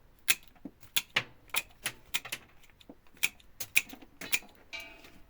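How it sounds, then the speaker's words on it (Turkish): Freshly sharpened pruning shears snip through thin branches, giving a run of sharp, crisp clicks in an irregular rhythm, close and fairly loud, with no talk. "İnce dalları ve uç kısmından çıtlatma yapalım."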